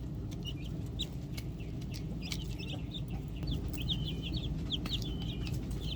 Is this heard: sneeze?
no